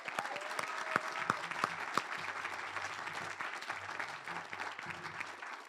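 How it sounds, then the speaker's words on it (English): Sustained applause from an audience at an award ceremony honoring faculty, a steady dense wash of clapping with a few sharper claps standing out, continuing for several seconds. "Let's give them a round of applause."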